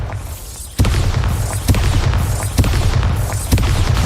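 A Bombarda spell in a Hogwarts video game sets off a run of heavy explosions: a deep boom lands suddenly, then several more follow at roughly one-second intervals. Each blast is loud and close, with a rumbling low tail and crackling debris.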